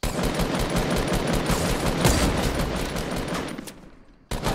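Rapid, loud gunfire in the video game Fortnite as a player shoots an opponent. Dense automatic bursts run almost continuously, stop briefly near the end, then resume.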